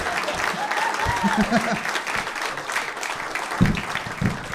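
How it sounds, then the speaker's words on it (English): A comedy club audience breaks into dense, sustained applause close by, with a voice speaking over the clapping. "Clap for me"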